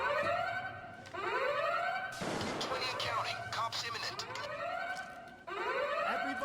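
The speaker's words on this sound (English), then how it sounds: "I say before the alarm gets tripped" A wailing alarm siren rises and falls in repeated sweeps during a heist in the video game Payday 2, with a burst of dense, noisy game action in the middle and a voice talking over it.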